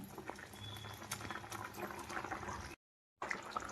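Coconut milk vermicelli payasam bubbling in a pot, a steady soft simmering burble with faint pops, briefly cut to silence before resuming.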